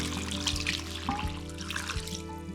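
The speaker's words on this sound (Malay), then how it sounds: "Tuang air sampai tenggelam." Water poured from a container over cut sweet potato pieces in a cooking pot, a steady continuous trickle and splash, close and moderately loud throughout.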